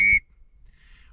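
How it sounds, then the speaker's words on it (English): A single short, loud whistle blast from a CS drake duck whistle sounds at the start and cuts off quickly, followed by near silence with faint background noise. "and then you've also got your drake whistle."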